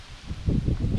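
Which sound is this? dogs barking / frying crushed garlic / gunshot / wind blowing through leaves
wind blowing through leaves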